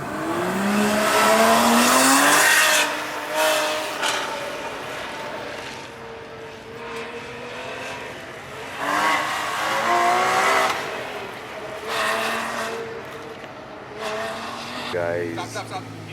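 A Nissan GT-R runs an autocross course at a cars-and-coffee event in Texas, tires squealing in rising and falling bursts while the engine revs, heard from nearby with people talking over it.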